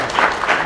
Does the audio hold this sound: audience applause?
yes